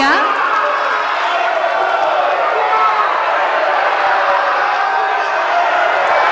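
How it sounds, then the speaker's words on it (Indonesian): Audience applause fills a hall during a televised gubernatorial candidates' debate, a steady dense wash of clapping and crowd noise with scattered cheers, loud and continuous throughout. "Kami berikan kesempatan untuk memberikan tepuk tangan kepada Cawagup nomor urut 2 dan Cawagup nomor urut 3."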